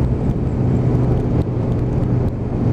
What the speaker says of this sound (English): Big V-twin underneath me,